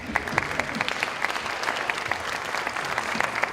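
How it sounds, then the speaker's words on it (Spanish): An audience claps together at a cultural centre film event, with steady, moderately distant applause lasting throughout and no voices over it. "Y otro aplauso para que se anime."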